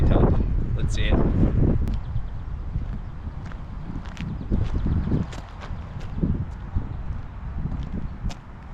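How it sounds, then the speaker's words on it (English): Wind gusts across an open disc golf course, buffeting the microphone in uneven rushes and low rumbles, with a person speaking briefly near the start and faint footsteps and thuds scattered through. "Wind's picking up more and more."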